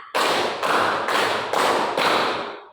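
A class of students in an Indonesian school clap hands together in unison, five loud, evenly spaced claps in a steady rhythm, each a sharp broadband burst that rings briefly, with no talking over them.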